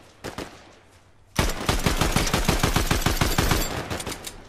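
Rapid gunfire in the video game Fortnite, a couple of sharp shots followed by a long fast burst of loud repeated cracks in quick succession, close and dominant with no talk.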